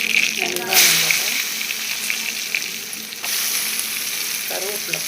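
Chopped onion hits hot oil with mustard seeds, cumin, fenugreek, asafoetida and dried chillies for an eggplant and mango sambar, giving a loud steady sizzle and frying hiss with a brief stirring clatter.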